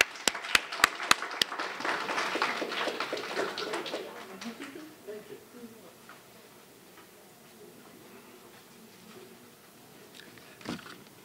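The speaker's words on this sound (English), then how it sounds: "Please give a round of applause to Dean Melatis." Audience applause at a women's leadership colloquium as a college dean is introduced: loud clapping fills the first few seconds, with sharp claps standing out, then fades to scattered claps and murmuring before he starts to speak.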